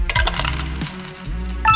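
Dice clatter and rattle onto a tabletop during a Warhammer-style tabletop wargame, a quick close burst of hard tumbling clicks that settles, then a brief second rattle at the end.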